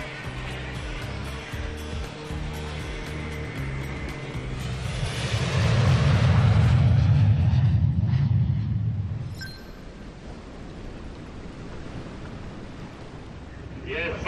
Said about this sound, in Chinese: 只有一条跑道的高崎机场，每天要完成将近500个航班起降